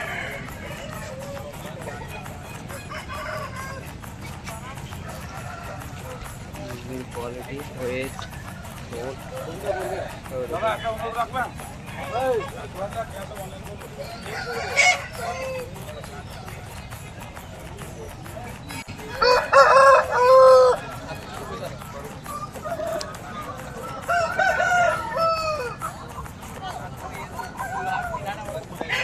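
A black fighter rooster tethered at a village poultry market crows and clucks in several short bursts amid steady crowd noise, with someone talking throughout.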